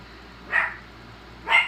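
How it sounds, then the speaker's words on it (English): A pet dog barks indoors during a thunderstorm, two single muffled barks about a second apart over a quiet background. "Oh, Chance, my dog. He's gonna bark because it's thunder and lightning out."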